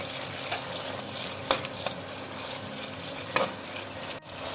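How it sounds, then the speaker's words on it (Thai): Oyster mushrooms being stir-fried in a pan for a vegan stewed vegetable dish, giving a steady sizzle with a few sharp utensil scrapes, close and fairly quiet, without talk. "Add oysters, mushrooms, then stir fry until the mushrooms are cooked."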